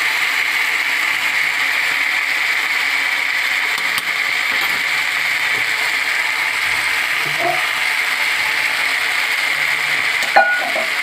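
Onion paste, ginger-garlic paste and chili frying in a pan give a steady, even sizzle with no break, joined by a faint utensil clink near the end.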